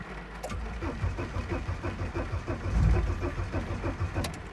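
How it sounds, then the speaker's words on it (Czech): Opel Frontera engine cranking on a first start attempt in mild weather, a steady rhythmic starter churn that briefly swells as the engine nearly catches, heard close with no speech. "zkusme si udělat úplně první start, venku je nějakých 15 nebo 16 stupňů, asi zhruba, jdeme startovat"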